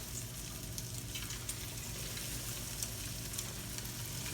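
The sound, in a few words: almond crusted tilapia frying in a fryer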